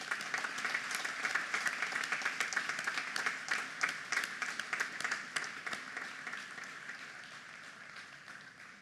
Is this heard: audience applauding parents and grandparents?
yes